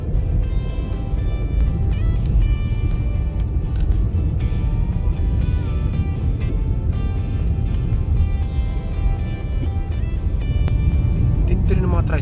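Motor tricycles drive along a road in Baler, Aurora, with a steady engine drone and road rumble close by for the whole stretch, punctuated by faint clicks.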